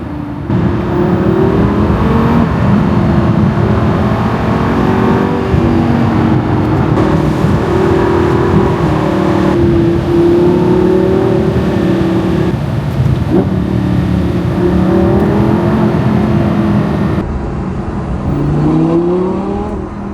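A Lamborghini Gallardo engine idles with a deep throaty burble and is revved repeatedly, the pitch rising and falling in loud, close bursts.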